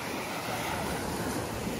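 Sea waves wash onto a beach at San Miguel, Liloy, Zamboanga del Norte in the Philippines, a steady broadband surf roar with light wind on the microphone and no voices.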